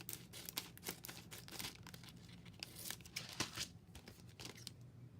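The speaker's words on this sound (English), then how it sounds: "we're just going to go around and trim all our edges. So I'm just going to trim all this off." Scissors trim the edges of acetate and cardstock on a shadow box card, giving a run of close, crisp snips and crinkling plastic rustles with no talking.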